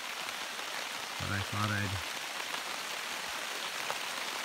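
Steady heavy rain hisses down in the woods, a dense close patter with no gaps, while someone speaks briefly under it.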